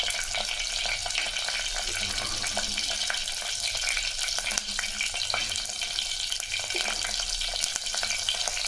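Small onions and green chillies fry in hot oil, giving a steady, dense crackling sizzle with scattered pops throughout, close by and unbroken.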